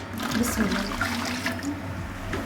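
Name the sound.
water being poured into a pot of spice paste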